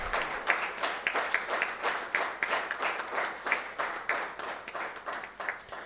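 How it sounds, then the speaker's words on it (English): Rhythmic applause from the audience at a photo festival award function, a steady run of strong, evenly spaced claps continuing for several seconds, close and clear with no voices over it. "So may I request all of you to give him a big round of applause, Yamazaki-san."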